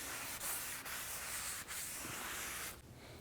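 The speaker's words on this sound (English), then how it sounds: "And wipe it down." A rag wipes down the front brake rotor of a 2002-06 Chevy Avalanche after brake parts cleaner, giving several quiet rubbing strokes with brief gaps between them, close up and without speech.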